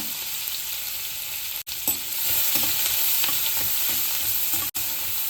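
Onion frying in oil with asafoetida, mustard seeds and cumin, a steady close sizzle with scattered stirring scrapes and brief pops, no voices.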